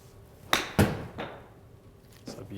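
Two crisp, loud golf club strikes on a Titleist Pro V1 ball, close together near the start, followed by fainter clicks and handling sounds, with no talking.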